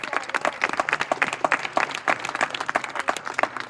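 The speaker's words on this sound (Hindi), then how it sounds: "फिर से जोरदार तालियां इस युवा जोश के लिए" Loose, uneven clapping from a small crowd at a student union election gathering, individual claps distinct and close, rising and falling in rapid bursts for several seconds.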